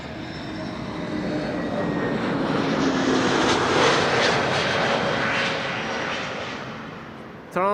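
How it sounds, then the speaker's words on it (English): A Transavia Airbus A321neo arriving at Amsterdam Schiphol from Olbia, its jet roar swelling loud and broad, peaking mid-pass and then easing away, with no voices over it. "Transavia arriving from Olbia, flight 6914. One of their A321neos."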